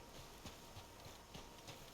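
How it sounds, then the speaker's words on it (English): Horse hooves clip-clopping in a desert video game, a faint steady walking rhythm of evenly spaced hoof strikes in the distance, with no talk over it. "I keep thinking I hear horse like hoofs."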